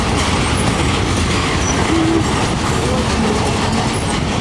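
Norfolk Southern long mixed freight train rolling northbound past Cooke Road in Columbus, a loud, close, continuous roar of wheels and cars with rumbling clatter throughout.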